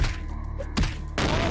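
Shotgun blasts strike an enemy in the video game Vampire: The Masquerade – Bloodlines, two or three heavy thudding impacts in quick succession, loud and close against a dense game background.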